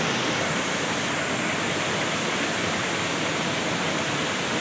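Floodwater after heavy rain in Semiliguda rushes past in a loud, unbroken roar, a continuous close wash of water with no voices.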